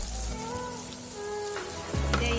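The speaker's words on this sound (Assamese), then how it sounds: "এয়া মই ভাজি আছোঁ" Browned onions and goat tripe frying in a pan, a steady close sizzle with occasional stirring knocks and a clatter near the end, and no talking.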